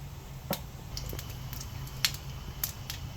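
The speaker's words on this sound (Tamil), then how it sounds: "கடுகு நல்லா பொரிஞ்சிருச்சு" Mustard seeds with cumin popping in two ladles of hot oil, a handful of sharp scattered pops and crackles spread irregularly over a low steady background hum.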